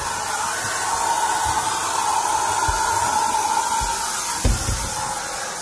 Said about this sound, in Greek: Ξεκινήσαμε με τη σκούπα.